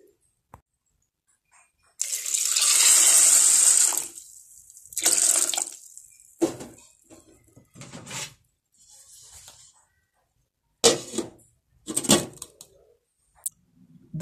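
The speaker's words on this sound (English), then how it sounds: "Wash the soybeans very well and parboil for 15 minutes." Water runs from a tap while soybeans are washed before parboiling, a rushing stream for about two seconds, then shorter bursts and splashes broken by quiet gaps.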